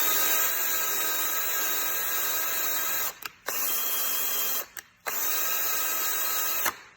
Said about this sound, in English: So I take a wire brush on a drill.